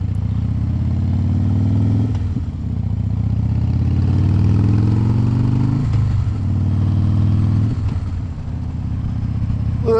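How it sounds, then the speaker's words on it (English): Motorcycle engine running steadily and loud throughout, with rev changes around two and six seconds; only faint, occasional deceleration pops, not clearly distinct. "A little bit of decel pop,"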